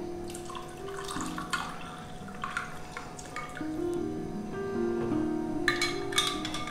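Water poured into a glass of lemon drink with ice, a close, steady trickle with bubbling, rising gurgles and a few clinks of ice, with no talk.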